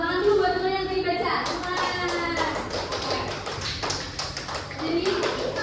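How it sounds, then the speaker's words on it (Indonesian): Schoolchildren in a classroom clap for a classmate who has just read aloud, a burst of sharp, uneven hand claps that builds after a moment and runs under children's talk. "Tepuk tangan dulu buat teman yang tadi baca."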